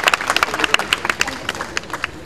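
Students at an NSS development programme session at National P.G. College clap together, a quick uneven patter of many hands from a nearby group, with a faint murmur of voices mixed in.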